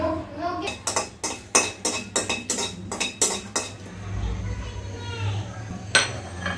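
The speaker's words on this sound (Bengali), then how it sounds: "টমেটোর চাটনিটা করার জন্য সবার প্রথমে কিছু শুকনা মরিচ আমি শুকনা খোলায় ঢেলে নিচ্ছি।" Dry red chilies roasting in a dry pan for tomato chutney give a quick run of sharp, rattling clatters and scrapes against the metal, then a softer, steadier rustle before one last knock.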